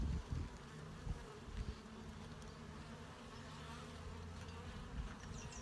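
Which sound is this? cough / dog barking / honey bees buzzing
honey bees buzzing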